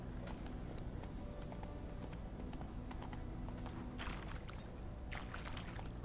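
Hooves clip-clop steadily as a horse trots in The Witcher 3, a rhythmic, moderately loud pattern over faint ambient game sounds.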